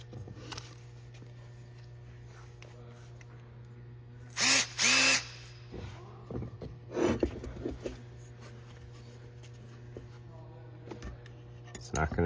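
Power drill running on a part for a Honda GX160 engine, with a short high whirring burst around the middle, quiet taps and handling noises before and after, and someone talking intermittently.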